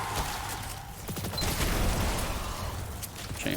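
A rapid string of booming explosions rolls out one after another in Destiny 2, dense and continuous, with crackling bursts layered over a low rumble.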